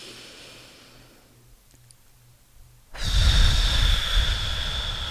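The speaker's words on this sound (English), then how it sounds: "Breathing in, smelling the flowers." Deep inhalation during a guided therapeutic vocal warmup, heard as a loud, sustained airy breath rising suddenly after a quiet pause and continuing steadily to the end.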